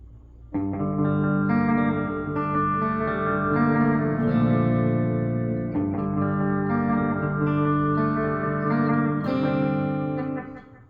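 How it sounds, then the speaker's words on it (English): An electric guitar runs through a budget delay pedal with the echo turned all the way up, sustained chords and notes smeared by long, prominent repeats and a distorted, chorus-like wash, loud and continuous. "I'm going to put the echo all the way up"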